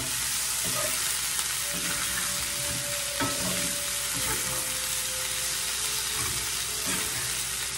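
Okra and potato hash frying in a pan while being stirred: a loud, dense, continuous sizzle up close with occasional scraping of the utensil.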